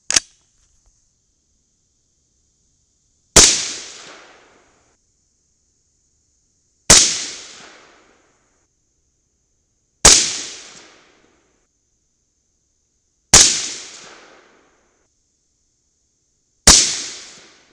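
Rifle shots from Mk 262 clone loads using Sierra and Nosler bullets, six sharp loud cracks at roughly three-second intervals, each with a decaying echo and faint high ringing between shots.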